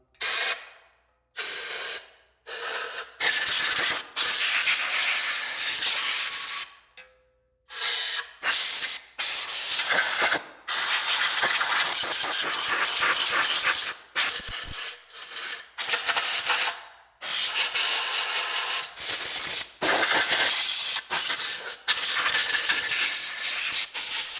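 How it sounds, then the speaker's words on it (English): Compressed air from an air compressor blows out Porsche 964 engine parts in a long series of loud, sharp hissing blasts separated by brief silences. "So you just get a air compressor, you just blow everything out."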